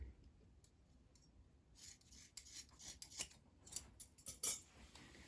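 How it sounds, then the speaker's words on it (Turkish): Macrame cord being cut with scissors, with a quiet rubbing and rasping snip texture building over a few seconds into several close, soft clicks and cuts, no talk. "Şöyle ipimi kesiyorum."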